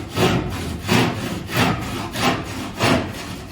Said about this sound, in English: I'm just going to run this right up alongside this stud, and I can kind of feel it as I push the saw in